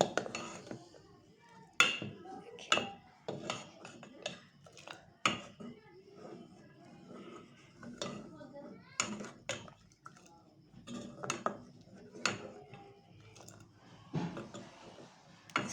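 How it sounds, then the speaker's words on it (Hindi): Metal spoon scraping and knocking against a pot while vermicelli (seviyan) is stirred in desi ghee, irregular clinks and taps close by with quiet gaps between strokes. "आज मैं मेवा वगैरह नहीं डालूँगी, इसमें डालूँगी देसी घी, और इसे अच्छी तरह से हम हिला लेंगे।"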